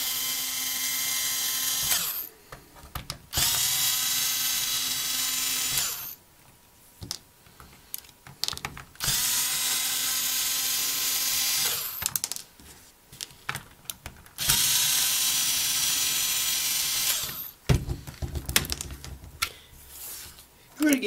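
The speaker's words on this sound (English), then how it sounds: "Take my screwdriver. I'm going to remove the back." A power screwdriver backs screws out of the rear casing of a ColecoVision game controller in four loud, close, sustained whirring bursts separated by pauses filled with small handling clicks.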